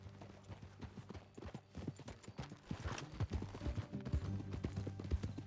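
Horse hooves clip-clop in an uneven walking rhythm while a rider moves off, close and moderately loud, with the steps growing denser and stronger toward the end.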